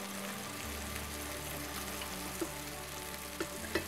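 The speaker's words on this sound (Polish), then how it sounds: "Wszystko dobrze mieszam i jeszcze ewentualnie doprawiam do smaku." Vegetables with tomato paste being stirred in a pan, with a soft steady sizzle and a few light spoon scrapes and clinks toward the end, quiet and close.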